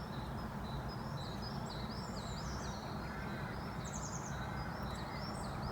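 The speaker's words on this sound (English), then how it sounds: "Listen to those birds." Birds chirp and whistle outdoors after rain showers, faint scattered calls over a steady low background rumble.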